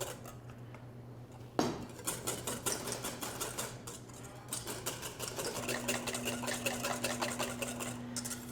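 Egg yolks for hollandaise whisked in a bowl over heat, giving a steady stream of rapid metallic clinks and scrapes at close range behind a low constant hum, with no talking.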